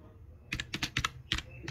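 Commands typed on a computer keyboard during a Windows installation fix, a quick irregular run of about eight clicky keystrokes, close and clear with no talk.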